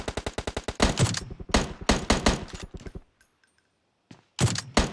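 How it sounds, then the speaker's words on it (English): Gunfire in PUBG Mobile during an esports scrim, rapid bursts of automatic shots, loud and close, stopping for about a second of near silence before another burst resumes. "So it looks like they are shooting at BDG."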